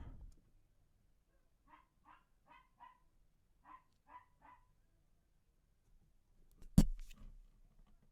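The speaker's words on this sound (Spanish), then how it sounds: "se le ocurrió al perro del vecino ponerse a ladrar" A neighbor's dog barks in distant, faint clusters of three or four quick yaps, then pauses and barks again. A louder close thump near the end breaks an otherwise quiet indoor room.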